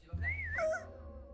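A voice mimics a dog stepping on its paw: a single rising, wavering high whine lasting about a second, close and fairly loud over a low hum.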